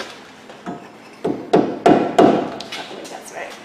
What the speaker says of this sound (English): Use the hammer.